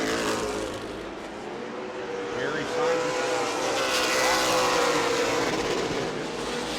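Race cars circling the track at New Smyrna during Prelude to the Cup, a steady, loud engine drone that swells as the field passes, running under continuous commentary.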